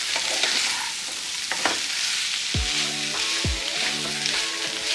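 Dry aloo gobi fry with potato, cauliflower and coriander is stirred in a sizzling pan, with a spatula scraping and clattering against the metal over a constant close frying hiss, no talking.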